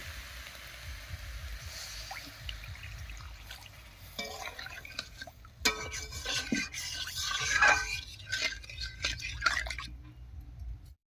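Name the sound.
water being poured into papaya curry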